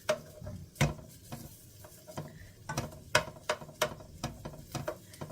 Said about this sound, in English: I'm just chopping up some of the meat.